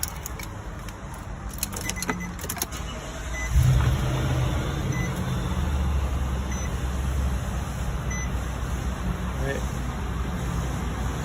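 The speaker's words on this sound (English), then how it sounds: "Just go ahead and turn on the vehicle." A 2020 Nissan NV 3500 Passenger SL van starts up: keys jangle briefly, then the engine catches with a sudden thump and settles into a steady low idle hum, with someone talking at times.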